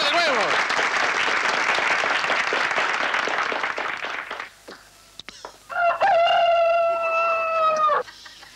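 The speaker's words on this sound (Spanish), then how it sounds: "¡Un aplauso para el comedor de huevos!" A TV show audience applauds an egg-eating contestant with loud, dense clapping for about four seconds, then it fades into scattered noise before a rooster-like crowing sound and voices take over.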